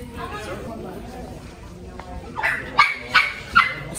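A puppy yips in three short, high barks in quick succession near the end, after a stretch of quiet background murmur, with people talking nearby.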